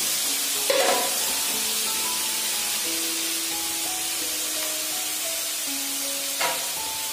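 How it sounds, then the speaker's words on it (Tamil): Chopped okra stir-fried lightly in a hot pan for a tamarind curry, a steady loud sizzle throughout with occasional scrapes of stirring. "இதை வந்து இதில் போட்டு நல்லா கொஞ்சம் லைட்டாக வறுத்து எடுத்துக்கலாம்."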